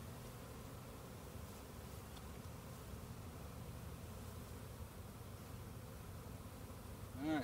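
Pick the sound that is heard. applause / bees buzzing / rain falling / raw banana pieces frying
bees buzzing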